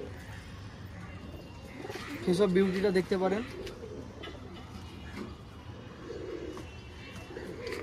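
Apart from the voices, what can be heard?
pigeons cooing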